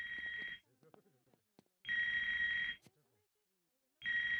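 A cell phone ringtone plays in a Family Guy cartoon scene, coming from a phone lodged near Joe's spine: three loud, bright, steady ringing bursts separated by short gaps with faint rustles and clicks.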